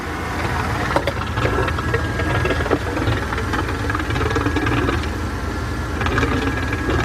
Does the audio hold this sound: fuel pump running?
yes